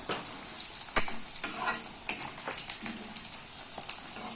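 Chopped onions and green chillies sizzle in a hot pan as a spatula stirs them, giving a steady close frying hiss broken by repeated scraping strokes, with no voices.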